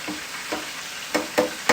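Buttermilk chicken deep frying in hot oil at 170 degrees, a steady crackling sizzle with a few sharper pops and clatters toward the end.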